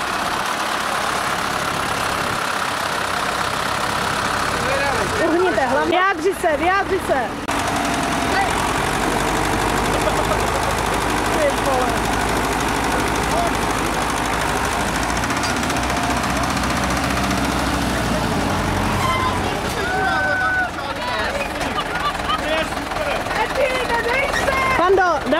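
A tractor engine starts and settles into a heavy, knocking idle at a Zlatkov tractor show in 2013, running steadily and close by while people talk over it.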